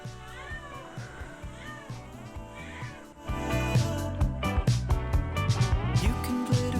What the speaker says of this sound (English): can you guys hear a baby crying? It's like they've made sounds here.